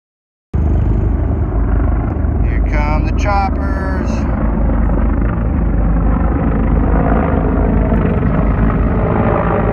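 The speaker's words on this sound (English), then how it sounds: "Choppers." Helicopters flying over sand dunes at Glamis, a loud continuous rotor and engine roar under a vehicle's rumble, with brief pulsing blade chop mid-way.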